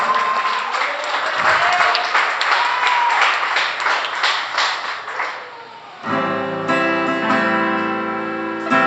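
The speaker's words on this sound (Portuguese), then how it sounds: "Você pode dar um aplauso ao Senhor Jesus?" A church congregation applauds loudly for about six seconds during an opening worship service, then the clapping gives way abruptly to a band with sustained tones and a voice.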